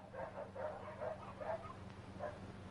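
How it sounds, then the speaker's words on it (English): Several dogs bark in quick, yappy bursts, a cluster of overlapping barks and yips at moderate distance over a low hum, typical of an old 1935 film soundtrack. "What's all the barking about?"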